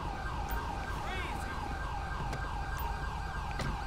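Ambulance siren in Grand Theft Auto V, a continuous wailing siren sweeping up and down in a fast, regular cycle, steady and fairly prominent over low engine and street rumble with a few sharp clicks.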